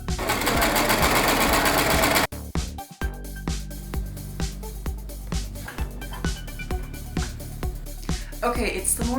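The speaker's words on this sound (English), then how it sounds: "sewing down all 24 loops onto the back panel by sandwiching them in between the seam" A sewing machine stitches rapidly, then runs in short rhythmic bursts as fabric loops are sewn onto a dress back panel, with the mechanical clatter close and distinct.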